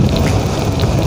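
Steady rain falls during a street motorcycle parade, a dense broadband hiss with low rumble that stays loud and unbroken for about a second, with no voices.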